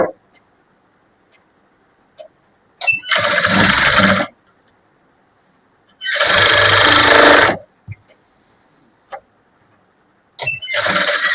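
Sewing machine stitching a 34-size lining blouse, sounding in three loud, close bursts of about one to two seconds each, separated by silence and small handling clicks.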